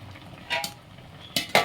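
Ladle stirring palak spinach boiling in a pot, a few brief metallic scrapes and clinks against the vessel over a low simmering background.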